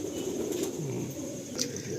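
An old-bloodline pigeon in a loft gives soft, low cooing over steady background noise, one short rolling coo near the middle, close and faint.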